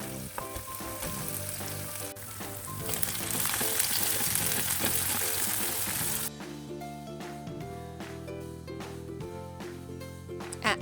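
Onions, mushrooms and cherry tomatoes fry in a pan with a loud continuous sizzle and crackle, joined by background music that carries on as the frying quiets partway through.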